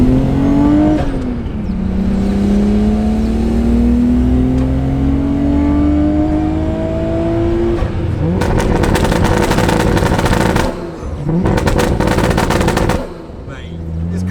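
A Toyota JZX100 Mark II with a 2JZ engine revs up in a rising drone, then breaks into loud rapid crackling pops and bangs in two bursts from the exhaust on low boost.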